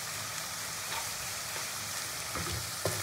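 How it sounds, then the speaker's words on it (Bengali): Onions fry with salt in a pan, giving a soft, even sizzle that holds steady throughout with a few faint stirring taps, quiet and with no talking. "তো পেঁয়াজটা ভাজা ভাজা এর মধ্যে পরিমাণ মতো একটু নুন দিয়ে দেবো,"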